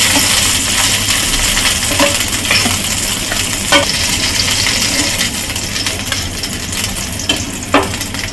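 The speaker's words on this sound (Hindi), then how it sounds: "बाकी को भी हम इसी तरह तल लेंगे।" Masala fish pieces fry in a little oil for a crispy fish fry, giving a steady close sizzle with a few light clinks and scrapes scattered through it.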